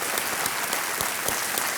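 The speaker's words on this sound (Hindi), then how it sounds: "एक बार फिर तालियों के साथ अभिनंदन" Steady, bright applause from a large TV game show studio audience on Kaun Banega Crorepati, a continuous wash of clapping with no pauses.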